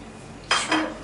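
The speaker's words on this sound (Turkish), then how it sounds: "İlk önce margarimizi pudra şekerimizi ve yumurtamızı karıştırıyoruz" A spoon clinks and scrapes twice in a bowl while margarine, powdered sugar and egg are mixed for cookie dough, two short metallic strokes over a quiet room.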